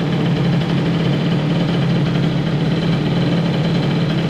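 Boosted Airsal XT 77 moped engine idling steadily, a loud, continuous low-pitched drone with an even buzz and no talk over it.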